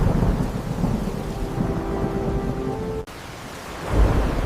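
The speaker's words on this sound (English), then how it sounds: "Then the rain began to fall. Softly at first, then harder and harder." Heavy rain pours steadily with deep rolling thunder rumbling underneath, a storm effect that swells, drops out abruptly for a moment, then returns with a louder thunder surge.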